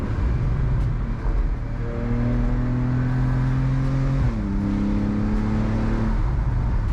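A 2014 Porsche Carrera S accelerates at full throttle, its engine note rising steadily in pitch, dropping briefly at a gear change, then climbing again, heard from inside the car with no talking.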